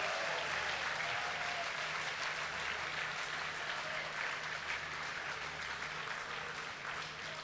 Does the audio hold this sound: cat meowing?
no